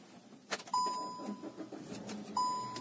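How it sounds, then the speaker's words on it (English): A car engine starts up after the ignition is turned, with dashboard warning chimes ringing twice at a steady pitch over a brief cranking rumble and settling idle, close by and moderately loud. "I'll start the car and I'll show you"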